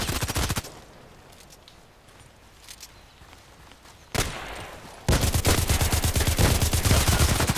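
Gunfire in the Contract Wars shooter game: a burst of rapid shots, then a quiet gap, a single sharp report, and a long loud sustained burst of automatic fire to the end.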